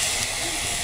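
Steady, loud hiss of tomato hitting a hot pan, continuous sizzling steam with no breaks, heard close up during a Punjabi village-style tori ki sabzi preparation.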